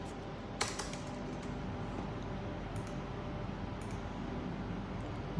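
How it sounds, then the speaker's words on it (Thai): Someone types on a computer keyboard, with faint scattered key clicks over a steady hiss of room noise and one sharper tap near the start. "เดี๋ยวพิมพ์ใหม่ดีกว่านะครับ"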